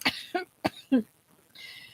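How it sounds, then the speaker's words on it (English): An audiobook narrator voices a character's coughing: a few short, sharp, dry coughs in quick succession, close and isolated, then a soft breathy exhale. "Chubuchu coughed twice."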